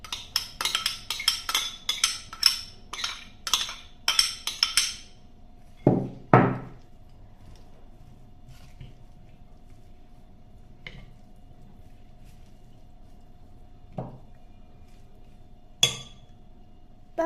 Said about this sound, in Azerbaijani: Yine az miqdarda qarışdırırıq.